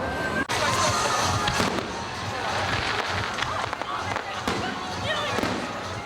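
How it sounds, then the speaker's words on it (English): Fireworks on a hot summer evening at a Lethbridge event, heard as a dense, continuous stream of crackling and popping bursts with a few sharper bangs, distant and rumbling, under faint crowd noise. "there's no better way to wrap up a special evening than with fireworks on a hot summer night"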